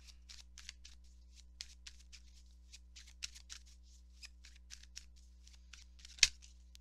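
Tarot cards are shuffled in a quick run of soft, close riffling flicks and slaps, faint over a low steady hum, ending in one sharper card snap.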